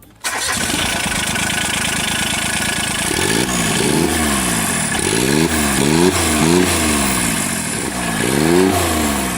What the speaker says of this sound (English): This is the 2004 John Deere Gator, equipped with a Yanmar turbo diesel engine, compact yet powerful.